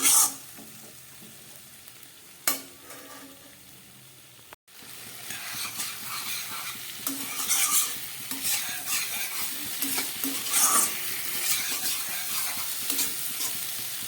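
Potatoes with spices frying in a pan on medium heat, a quiet sizzle under repeated close scraping stirs, with a couple of sharp clanks early on.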